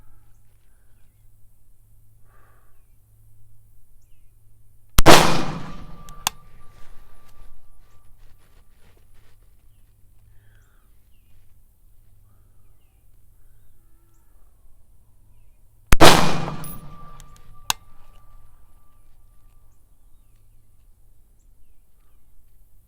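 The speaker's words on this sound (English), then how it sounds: "Get back in a good shooting position. Shoot the rest of these." Two sharp, loud rifle shots from an MK12 Mod 0 firing 77 grain SMK loads, about eleven seconds apart, each a sudden crack with a short ringing tail, with quiet outdoor background between.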